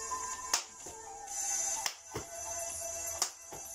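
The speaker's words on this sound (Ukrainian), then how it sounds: "Будемо підкидати його і плескати під ним." Hand claps under a tossed ball during a children's physical education exercise, a few sharp separate claps spaced about a second apart over a steady background hum.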